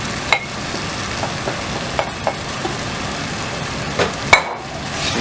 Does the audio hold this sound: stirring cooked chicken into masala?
yes